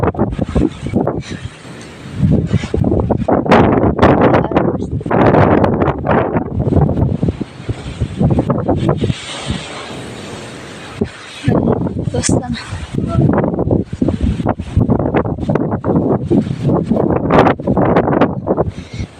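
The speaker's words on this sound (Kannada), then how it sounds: "ಇಲ್ಲಿ ಫುಲ್ಲು ಗಾಳಿ" Strong wind roars and buffets the microphone almost nonstop at a temple while a person keeps talking over it.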